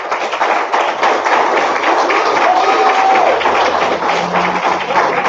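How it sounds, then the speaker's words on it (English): Audience applause at a community action training group meeting in St John's, a steady, close wash of many hands clapping that holds throughout without letting up. "So give yourself an applause for that."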